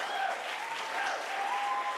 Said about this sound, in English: Round of applause, please, for all three candidates.